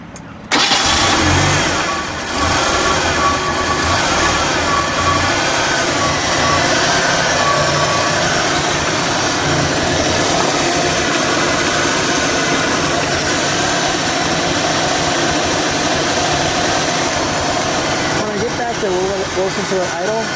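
A 1980 Ford Fairmont Futura Turbo runs at a steady, loud idle for about twenty seconds, its engine note rising briefly near the end. A voice talks over the running engine.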